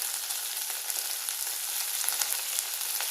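Small shallots and curry leaves frying in ghee, a continuous bright, hissing sizzle heard close and alone, with faint scraping of stirring.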